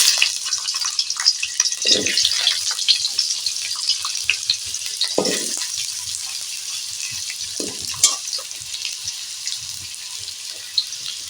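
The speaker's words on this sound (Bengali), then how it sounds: "আমি তেল দিয়ে দিলাম তেলটাও হয়ে গেছে আলু দিয়ে দিলাম" Potatoes fry in hot oil in a wok, giving a steady bright sizzle throughout, with a few soft stirring clatters and scrapes rising above it.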